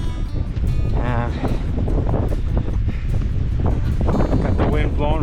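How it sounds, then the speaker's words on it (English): Strong south wind gusting hard across a mountain ridge on Frary Peak, Antelope Island, above the Great Salt Lake, a steady loud rush buffeting the microphone throughout, with someone talking over it. "got the wind blowing from the south quite hard now"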